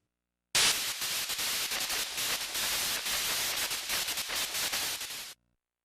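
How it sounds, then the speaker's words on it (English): A harsh burst of white-noise static on the screen in .hack//Outbreak signals the start of a boss battle, a loud flat hiss that cuts in sharply, holds steady for about five seconds, then stops abruptly. "White noise on the screen will signal the start of battle."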